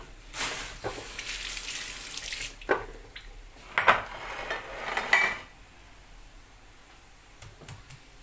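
Onions rinsed under cold tap water, with a soft running-water hiss broken by a few splashes and clinks of a bowl or dish, close by with no talking.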